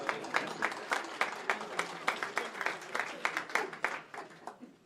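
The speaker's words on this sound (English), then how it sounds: "I think you should give yourself a round of applause" Gala dinner guests at a chef of the year dinner applaud with steady, moderately loud clapping from a roomful of people, tapering off toward the end.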